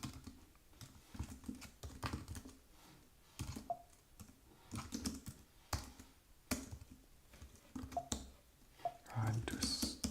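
Typing on an Apple computer keyboard, a steady run of soft, close clicks and taps in irregular bursts, with a person speaking over the keystrokes.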